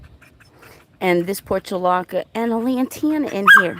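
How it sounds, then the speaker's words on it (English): A dog whimpers and yips in short bursts beneath someone speaking in a summer garden with potted portulaca and lantana. Her talk is louder and dominates throughout. "Oh, I'm sorry about the dog."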